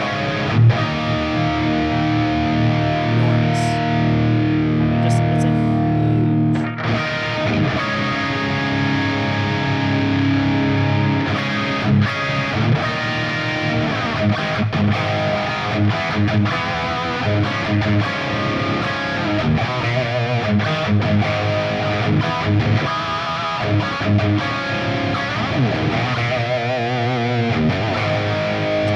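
A heavily distorted electric guitar through an Axe-Fx amp modeler plays chunky, sustained riffs, loud and thick throughout with a brief spoken word near the start.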